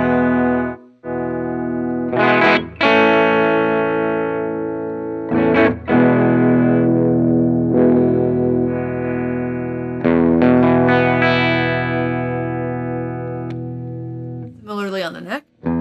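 An electric guitar played through a Rude Tech Ain't Afraid fuzz pedal, its volume rolled down for an overdrive tone, rings out in several loud sustained chords and notes with brief gaps, close and alone.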